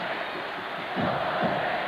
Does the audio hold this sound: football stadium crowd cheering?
yes